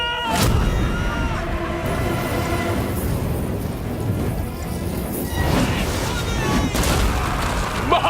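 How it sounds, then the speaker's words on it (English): Catapults in Total War: Rome II launch flaming incendiary darts across an ancient battlefield, with heavy crashing impacts and booming bursts over a dense rumbling din, and a voice speaking partway through. "Catapultae could be used with incendiary ammunition."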